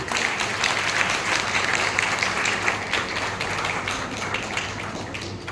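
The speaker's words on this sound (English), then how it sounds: "So big round of applause everyone." Audience at a school program claps for first-grade students after their stage performance, a steady, full round of applause from a large crowd lasting the whole stretch.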